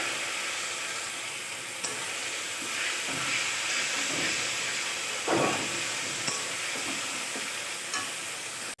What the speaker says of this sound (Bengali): খুব অল্প পরিমাণ অল্প জল অ্যাড করে দিচ্ছি যাতে মশলাটা পুড়ে না যায়